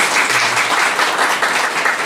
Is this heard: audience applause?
yes